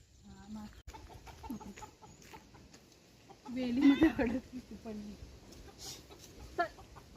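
Chickens cluck and murmur close by, with a louder burst of clucking midway, over quiet rustling and background noise.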